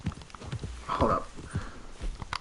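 Horse hooves clip-clop in steady, muffled beats in Red Dead Redemption 2, with a short whinny-like sound partway through and game ambience underneath.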